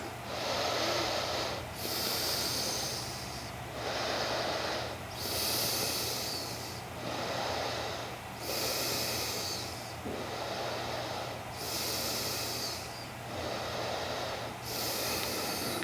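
Steady rhythmic breathing in a yoga seal pose, a continuous cycle of deep inhales and exhales repeating about every one and a half seconds over a constant low background hum, close and fairly loud.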